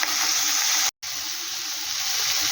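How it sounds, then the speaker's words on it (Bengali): Shrimp fry in a pan with a loud, steady, hissing sizzle, broken by a brief dropout before the sizzle carries on evenly. "এটাকে একটু ভালো করে ভেজে নিই"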